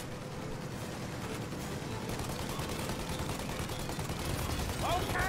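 Gunfire in the video game Mafia: Definitive Edition during a chase after a plane: a dense, continuous rattle of rapid shots over mechanical rumble, steady and fairly loud, swelling slightly at the end.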